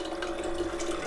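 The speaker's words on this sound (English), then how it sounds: "Fill up the teapot here." Tap water running into a teapot, a steady close stream with a rising filling tone, heard alone without talk.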